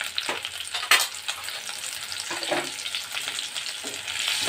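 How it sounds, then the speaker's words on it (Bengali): Potato chunks seasoned with salt and a little turmeric fry in a pan for a Bengali curd potato curry: a steady, close crackling sizzle with occasional stirring scrapes and brief louder pops. "আলুগুলো একটু ভালো করে আমি কষিয়ে নেব লাল লাল করে।"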